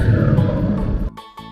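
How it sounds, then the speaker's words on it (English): A polar bear gives a loud, rough roar lasting about a second, then cuts off into a brief quieter tonal tail, with no talking. "Polar bear"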